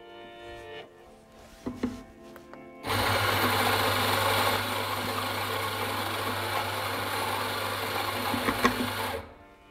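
An espresso coffee grinder runs steadily for several seconds, grinding an 18-gram dose into a portafilter, with a strong, even motor hum that starts abruptly and stops cleanly at the end, after some quieter handling clatter.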